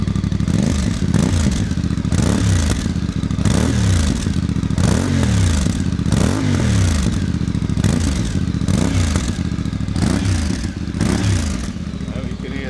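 A Voge 625DSX motorcycle fitted with a Scorpion exhaust runs loud and close, its engine repeatedly revved in rising and falling pulses over a steady throaty idle, with voices talking over it.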